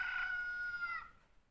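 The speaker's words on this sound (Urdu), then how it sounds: "جو مرغا اذان دیتی ہے" A rooster crows once in a single drawn-out, strained call that fades toward the end, heard alone over faint background hiss.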